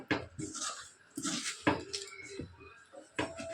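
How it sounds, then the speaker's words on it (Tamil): A metal ladle scrapes and knocks around a pot while rice flour dough for idiyappam is stirred, giving several distinct clattering bursts with short pauses between them, close and fairly loud. "அது வரைக்கும் கரண்டி வச்சு கிண்டி விட்டணும்"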